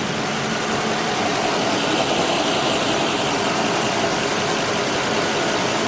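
A 2010 ambulance engine idles while warming up, a steady, loud, broadband rumble and hiss that holds even and unbroken throughout, with no talking.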